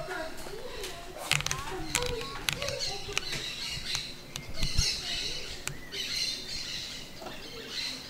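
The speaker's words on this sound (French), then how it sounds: "Puis il y a énormément d'oiseaux." Many birds chirp and squawk in a leafy garden with a mango tree, scattered calls near and far, with people talking over them.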